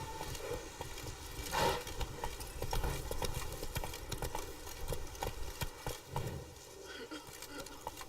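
Roach the horse gallops in The Witcher 3 video game, a run of hoof clip-clops under a continuous rumbling game soundscape, with a voice speaking over it at moments.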